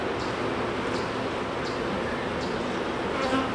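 Swarm of aggressive honey bees buzzing around an open hive, a dense continuous drone held close and steady throughout, with no voices.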